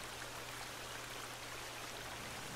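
Waterfall in the survival game The Forest, heard as a steady, dense hiss of rushing water filling the whole moment with no breaks or other sounds.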